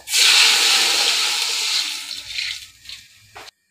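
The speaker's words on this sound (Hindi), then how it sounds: "अब मैं इसमें पानी ऐड कर रही हूँ।" Water gushes into fried masala in a pot while Hyderabadi biryani is being made. The pour starts as a loud rushing splash, thins and gurgles, then cuts off abruptly.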